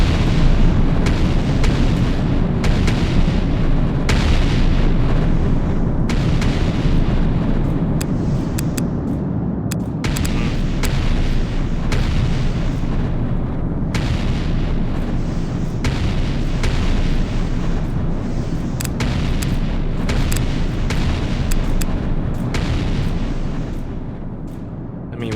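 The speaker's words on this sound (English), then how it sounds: "we got a lot of rockets firing a lot of missiles" Rocket turrets in the strategy game Artificial Extinction 2 launch missile after missile, producing a relentless barrage of booming blasts and bursts that overlap for the whole stretch with no talking.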